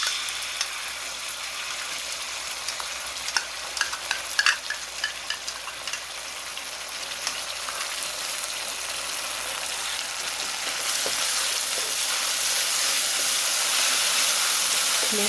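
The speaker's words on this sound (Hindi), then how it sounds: "केचप जाएगा इसमें 2 टेबलस्पून," Ketchup goes into garlic frying golden in oil for gobi manchurian, giving a steady close sizzle and hiss with a few scraping stirs, the frying growing louder and denser toward the end, with no talking.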